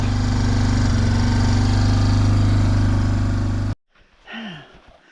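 A four-wheeler engine idles loud and steady close by on a cold morning, then cuts off abruptly, leaving brief faint sounds.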